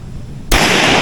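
A single loud gunshot at an outdoor shooting range in Norzagaray, Bulacan cracks suddenly after a quiet moment, close and forceful, followed by a lingering blast of noise.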